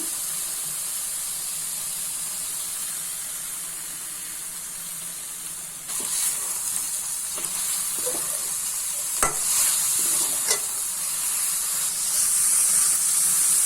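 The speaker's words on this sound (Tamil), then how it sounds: "நெய் ஊற்றி ஒரு 2 to 3 மினிட்ஸ் வந்துட்டு நல்லா வதக்குங்க." Grated carrot halwa sizzles steadily in ghee in a pan, a loud continuous frying hiss with occasional scraping stirs and clicks of a spoon joining partway through.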